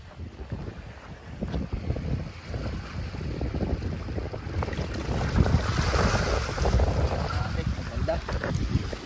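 Steady wind blows hard across the microphone in a continuous low rumbling roar, with faint voices mixed underneath, at El Pinoy in Lian, Batangas.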